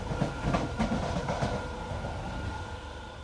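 A London Underground train rumbling and rattling along the track, a steady clattering roar with rhythmic wheel clicks, fairly close.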